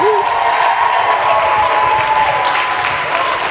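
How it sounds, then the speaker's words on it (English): Steady applause and light cheering from an audience welcoming a comedian on stage at an arts advocacy comedy keynote, a dense even wash of clapping that holds throughout, with a faint high whistle near the start. "Start clapping right now for my homegirl, Miss Susie"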